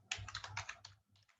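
Quick bursts of keystrokes clatter on a computer keyboard during single sign-on setup, a rapid run of close taps followed by a brief pause and a few more presses, with no talking.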